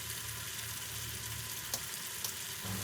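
Marinated chicken sizzling in hot oil in a pan, a soft, even crackle held at moderate level, broken by a couple of brief sharp ticks; no talking.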